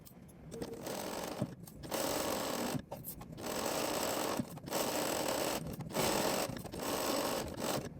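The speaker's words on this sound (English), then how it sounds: "Sew each dart starting at the outer edge." A sewing machine stitches darts on the front bodice of a dress, running in steady close bursts of whirring stitches separated by short pauses for repositioning.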